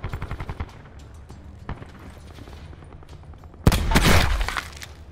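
Gunfire from the Outlander rifle in Call of Duty: Black Ops 4 Blackout, a rapid string of sharp game shots early on, then quieter action and a loud burst of gunfire and impact noise near the end.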